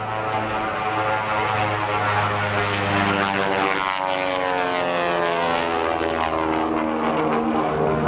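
A Cessna C-185 propeller airplane drones loudly overhead at an airshow, its steady engine roar sustained throughout with a slight shift in pitch as it passes.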